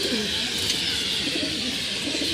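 Several pigeons of one breeding line coo steadily in a loft, a dense low murmur of overlapping calls heard close by without pause or talk.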